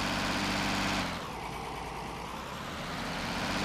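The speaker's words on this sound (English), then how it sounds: "I'm not sure about this tractor, to be honest. It does not sound very good." A tractor engine idling in Farming Simulator 19, giving a loud, steady low rumble with a rough, uneven tone that dips slightly partway through and then resumes.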